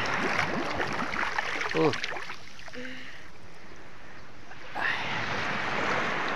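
Rough surf crashing at a beach near Agoo, a broad wash of breaking waves and wind with swells around the start and near the five-second mark, with brief voices talking over the sea.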